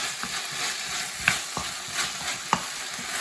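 Chopped tomatoes sautéing in a pan with ginger garlic paste for a chicken curry, giving a steady soft sizzle with a few sharp spoon scrapes and stirring clicks, close and alone.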